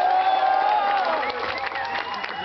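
Crowd cheering and clapping at a costume contest, a dense roar of applause and shouts with a voice rising over it, loud and close.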